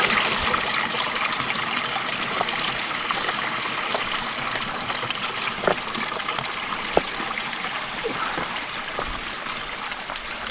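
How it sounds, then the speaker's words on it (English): Mountain water trickles steadily from a notched log along the Pemi Loop backpacking trail. The splashing stream is close and constant, with a few small drips and splashes, and no talking. "fill our water right out of that notched log"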